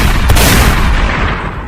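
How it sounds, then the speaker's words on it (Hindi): A single very loud blast that booms, then rumbles and fades over a second and a half. "फिर बहुत जोर से तो गोली चलने की आवाज हुआ।"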